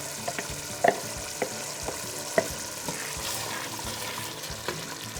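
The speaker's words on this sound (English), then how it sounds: "now you want to add your blended eggplant" Blended eggplant is stirred into a pot of simmering smoked catfish soup, with a soft sizzling bed and a few sharp spoon knocks and scrapes against the pot.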